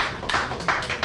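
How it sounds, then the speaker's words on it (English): Applause from an audience honoring Stationery Stores FC legend Joseph Enaguna at a plaque presentation ceremony, a brief burst of hand clapping that swells in uneven waves. "Let's give him another round of applause."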